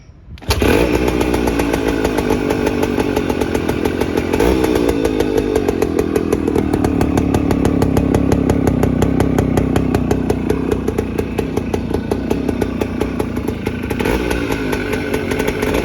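A Suzuki Max100R two-stroke motorcycle fitted with a Suzuki Shogun exhaust muffler starts and idles, a loud, raspy, rapid buzzing close by that holds steady with slight revving for about fifteen seconds, no talking.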